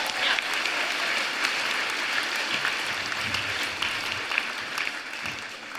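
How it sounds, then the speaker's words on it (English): A small group claps together in a steady burst of applause, loud and close and continuous for several seconds without any voices. "Give yourselves a little round of applause."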